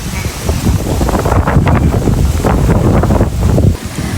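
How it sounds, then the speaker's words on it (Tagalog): Strong wind at a fish pond buffets the microphone in loud, continuous gusts, with a broad rushing roar that swells and eases throughout. "Malakas po ang hangin."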